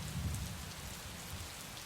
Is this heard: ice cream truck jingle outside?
no